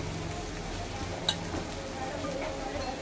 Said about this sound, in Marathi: परतवून घेऊया मस्त, फ्राय करून घेऊया